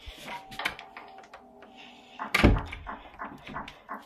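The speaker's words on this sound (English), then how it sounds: "No, go shut the door." A door slams shut with a single solid thud in a horror-style video game, set among faint clicks and soft tapping in an otherwise quiet scene.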